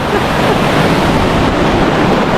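Hagdan-Hagdan Falls in Mauban, Quezon pours with a steady, loud, broadband rush of water close to the microphone, unbroken for the whole stretch.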